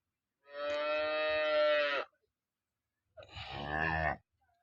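A recently calved cow moos twice nearby, a long sustained low call followed after a pause by a shorter second moo, with no talk.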